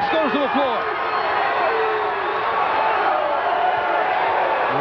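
A standing-room-only wrestling crowd at the Civic Center Coliseum, during a WCW Monday Nitro match, roars continuously with whoops and cheers, while a commentator's voice runs over the top.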